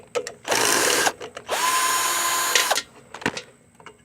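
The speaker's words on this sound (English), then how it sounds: "I got a drill and an adapter to make my life easier." A power drill fitted with an adapter spins lawnmower bolts on a mower that had caught fire twice. It gives two loud, close whirring bursts, a short one and then a longer one, with faint clinks between them.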